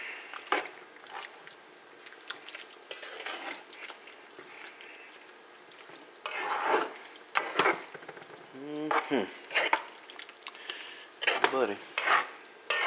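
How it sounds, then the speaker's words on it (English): Curry chicken being stirred and scraped around a hot pan, with soft sizzling and intermittent clinks and scrapes of a utensil against metal, while a person talks over the cooking. "Stir it off in there."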